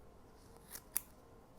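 Scissors snip a small patch of leather while a bucktail deceiver fly is being tied, two quick faint close cuts with the second one crisper, in a quiet room.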